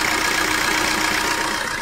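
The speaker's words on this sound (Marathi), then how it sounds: "हा इंजिनचा आवाज," A Maruti Ertiga car's engine idling with the AC compressor and radiator fan running, a steady even hum with a faint whirring layer, close and unchanging.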